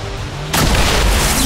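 A sudden loud blast from the video game XCOM 2 hits partway through and then holds as a dense, rumbling roar, following a quieter stretch of ambient game sound.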